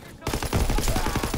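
Grenade explosion and sustained gunfire in the Call of Duty WW2 video game, a dense burst of rapid, loud blasts and crackling shots that fills the whole clip after a brief quiet start.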